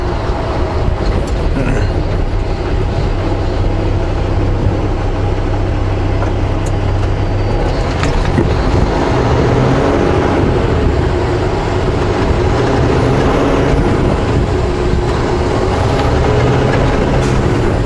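Heavy truck driving on a slippery surface with the power divider lock engaged, a loud steady engine rumble with rattling and road noise throughout and no talk.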